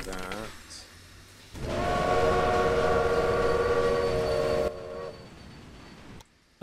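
A train rumbles steadily past in the Railway Empire video game, a loud rolling clatter with a sustained horn tone layered over it, easing off near the end, with someone talking at the start.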